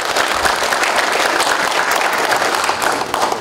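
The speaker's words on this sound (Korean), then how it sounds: "박수 한번" Sustained audience applause fills a hall at an academic conference on Hogye Seowon and the Toegye school, dense and loud with steady clapping throughout and no pause.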